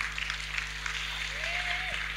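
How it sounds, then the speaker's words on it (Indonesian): An audience at a Muhammadiyah talk in Jember clapping, a dense, sustained patter of many hands heard from within the room over a low electrical hum, with a faint tonal sweep near the end. "Tepuk tangan untuk saya."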